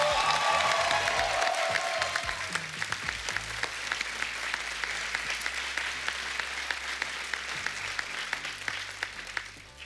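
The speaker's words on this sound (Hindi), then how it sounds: "एक बार जोरदार तालियां टाइगर के लिए हो जाए" A studio audience on a comedy talk show gives Tiger Shroff loud, sustained applause with scattered cheers, with a short musical flourish at the start and the clapping gradually easing over about ten seconds.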